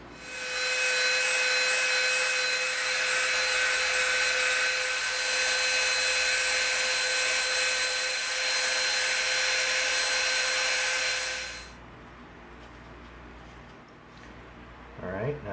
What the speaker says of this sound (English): we're going to just soften the edge of this with our